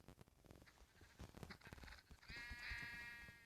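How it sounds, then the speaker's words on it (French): Sheep bleat in a video game, faint and low in level, with a drawn-out bleat near the end after a few softer animal noises. "Oh merde, les moutons."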